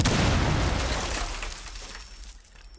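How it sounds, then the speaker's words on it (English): A flashbang grenade bursts in Rainbow Six Siege, a loud broad blast that fades out over a couple of seconds with a faint ringing tone, no talking. "try and stuff a flashbang"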